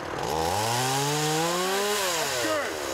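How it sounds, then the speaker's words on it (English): A chainsaw at chainsaw certification on a trail roars steadily while cutting wood, its engine pitch rising and then dropping as the cut finishes, loud and close throughout. "we're out doing chainsaw certification today"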